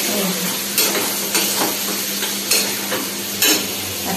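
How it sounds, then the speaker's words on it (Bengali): Potato and pointed gourd curry cooking in a pan in a home kitchen, a steady low sizzle with periodic scraping stirs of a utensil against the pan, close and moderately loud. "এই যে আলু পটলের তরকারি হচ্ছে।"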